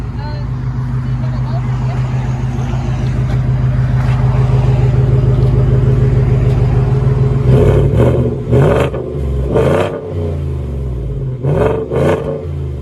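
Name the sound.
Ford F-150 5.0 Coyote V8 exhaust revving, side pipe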